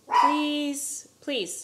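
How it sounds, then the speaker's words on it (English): Dogs barking outside, two loud drawn-out barks with a whiny, yelping tone separated by a short pause, close and prominent, with a person speaking over them. "I don't know why the dogs are barking."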